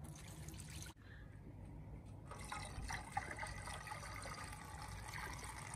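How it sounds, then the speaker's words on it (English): Water being poured into a camp oven over vinegar for corned beef outdoors, a steady liquid fill and trickle heard fairly close and faint, with a brief thud partway through. "Now I'm going to add water to this."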